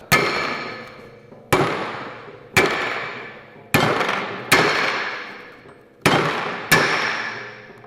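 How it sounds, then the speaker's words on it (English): Hammer blows knock out wheel studs on a Toyota Sera, seven loud, sharp metallic strikes at uneven intervals, each ringing and decaying before the next, close up with no talking. "You literally just get a hammer, knock out the old studs"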